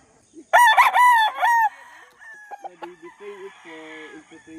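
A rooster crows loudly and close by in one strained, ragged call, then clucks several times more softly in short, separate bursts.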